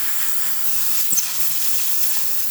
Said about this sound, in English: really good steam coming out of the machine